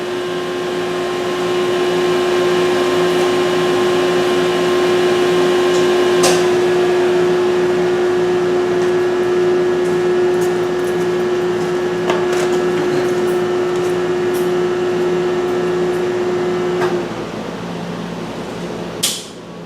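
A CNC mill and its rotary phase converter hum loudly and steadily with a strong tonal whine, then the main power is switched off and the drone cuts out near the end with a final clunk.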